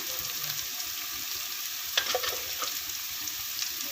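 Steady, soft sizzling of ginger garlic paste frying in a pan, with a few faint scrapes of stirring, no voices.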